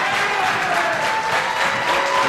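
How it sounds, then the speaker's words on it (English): Wrestling crowd in an arena cheering for Hardcore Holly, a loud sustained roar of clapping and shouting voices that swells and stays dense across the whole moment. "Crowd trying to get behind Hardcore Holly here."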